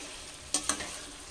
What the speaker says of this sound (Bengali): এবার এই সময় আলু ভাজাগুলো আমি দিয়ে দেবো, যে আলুগুলো ভেজে রেখেছিলাম।